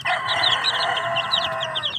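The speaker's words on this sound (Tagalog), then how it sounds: "Tingnan nyo itong masisiw." Chickens and chicks in a farmyard, including a Rhode Island breed, cluck and peep continuously at close range, with bright chirps layered over lower hen calls and no talk.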